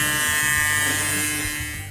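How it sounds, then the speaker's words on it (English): A small toy car built from toothbrushes and a vibration motor buzzes steadily and close up for about two seconds, then fades slightly at the end. "rotating unevenly and the car begins to vibrate"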